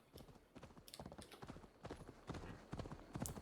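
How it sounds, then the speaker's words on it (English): Horse hooves clip-clopping steadily closer in the Viking game Assassin's Creed Valhalla, a brisk rhythmic gallop of many quick hoofbeats growing slightly louder, with a faint whinny and no talk. "every time I whistle, a different horse shows up"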